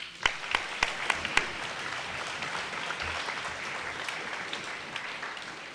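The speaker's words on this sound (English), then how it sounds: "So just a round of applause for these guys." Applause rises for a high school hockey team at an athletic banquet, a room of hands clapping moderately with a few sharp claps standing out early.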